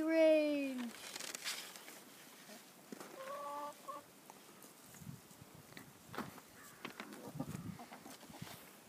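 Chickens clucking in a free-range yard, a loud close burst at the start, then scattered softer clucks and rustling steps across the scene.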